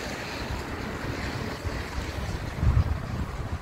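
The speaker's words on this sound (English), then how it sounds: "There's like a little waterfall flowing right across the river. But I tell you something, it's flowing fast anyway." Fast-flowing river water rushes over a small waterfall across the river in Settle, Yorkshire, giving a steady broad roar heard from a bridge, with low wind buffeting the microphone.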